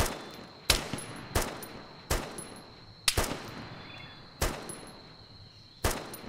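A PKP machine gun in Arma 3 firing short bursts, about seven sharp reports at irregular intervals, each with a rolling echo, over a quiet outdoor backdrop of insects.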